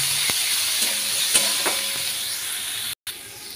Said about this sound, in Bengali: এইবারে এই মশলাগুলো আমি আরও 5 থেকে 7 মিনিট খুব ভালো করে কষিয়ে নেব।